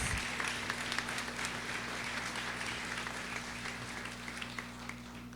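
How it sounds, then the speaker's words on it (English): Sustained applause from an audience at a Brooklyn Eid al-Fitr celebration honouring authors, steady dense clapping with a low constant hum underneath throughout. "let's give them another round of applause."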